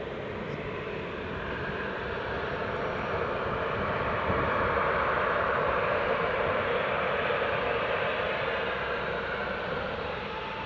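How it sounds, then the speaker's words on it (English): Aircraft engine roaring at Newcastle International Airport, a steady, broad jet rush heard from a distance that swells slightly midway and holds, with no talking. "Right, Woodgate has just been clear for takeoff"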